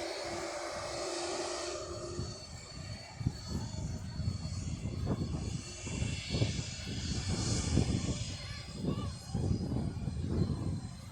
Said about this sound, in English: I'm going to watch this plane take off